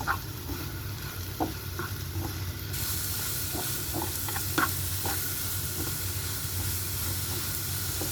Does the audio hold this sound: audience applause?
no